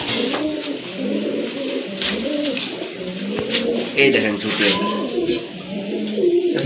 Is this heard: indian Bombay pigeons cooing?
yes